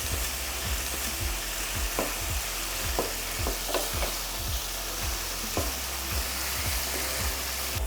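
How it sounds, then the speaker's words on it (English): Turkey mince fries over high heat in a pan with a loud, constant sizzle, punctuated by regular scraping strokes as it is stirred and tossed, close up with no talking. "the heat at this point should be quite high. Otherwise, your meat will boil rather than fry."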